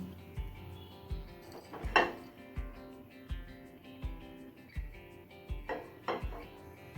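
Fried oats being scooped from a kadai into a pot, then a wok set down on the stove, heard as a series of close metallic clanks and scrapes with a louder clatter near the middle and no talk.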